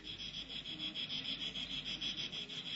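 A cicada drones in a steady, pulsing buzz that stays loud and even for the whole stretch, with no voices over it.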